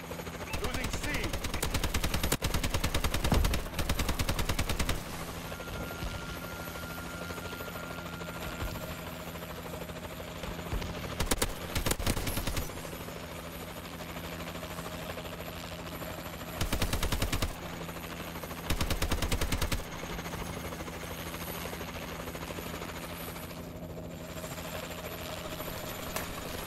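Warbird aircraft engine drone and rapid gunfire bursts in Call of Duty: Advanced Warfare multiplayer, a constant rotor-like hum broken by several loud automatic bursts, with game announcer voices over it.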